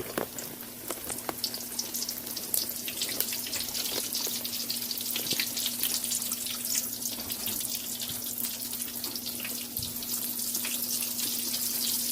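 Katlama dough fries in hot oil in a kadhai (wok) for a Lahore street-food style recipe, giving a steady, loud, continuous sizzle and crackle with a low hum beneath and no talking.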